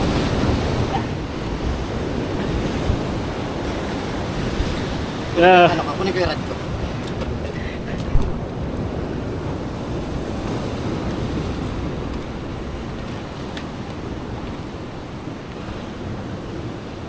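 Ocean surf and gusty wind roll continuously around a boat at sea during giant trevally fishing, a steady broadband wash with a brief sharper splash midway, while people talk over it.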